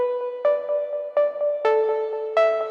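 Serum synth recreation of a track's pluck: short bright plucked notes in a repeating syncopated pattern, each with a sharp attack and quick decay, played alone and clearly.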